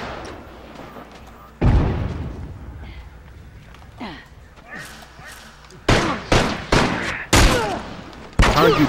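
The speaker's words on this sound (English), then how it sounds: "I shot Penn once with the sniper" Sniper rifle shots in The Last of Us multiplayer ring out as a series of loud, sharp reports with echoing tails, one early and a rapid cluster near the end, alongside quieter game sounds.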